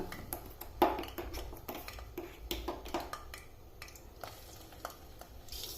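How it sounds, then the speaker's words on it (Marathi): Masala paste frying in oil in a pan for a village-style drumstick curry, stirred with a ladle: soft sizzling under repeated scraping and clinking strokes, close and steady, with no voices. "हे सुद्धा आता खूप छान खमंग अगदी तेल सुटेपर्यंत आपल्याला परतवून घ्यायचंय"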